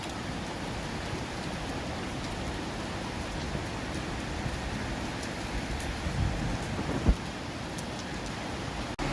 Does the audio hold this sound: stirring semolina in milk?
no